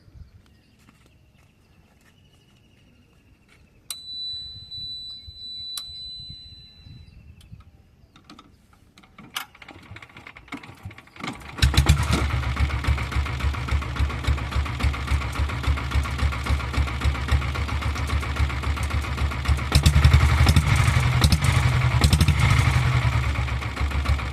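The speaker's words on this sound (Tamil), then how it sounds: "வண்டியை ஸ்டார்ட் பண்ணி காட்டிடுறேன்" A vintage diesel Bullet motorcycle is heard: after a few quiet clicks and shuffles, the engine fires and settles into a loud, close, steady thumping idle that keeps running to the end.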